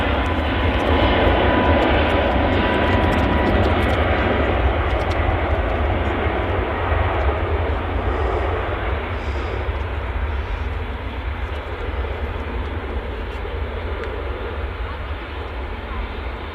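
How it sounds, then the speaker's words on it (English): Aircraft engines at Manchester Airport give a loud, sustained roar that slowly fades over several seconds, heard from a plane spotting position, with a voice speaking faintly underneath. "Some great sounds today from the aircraft."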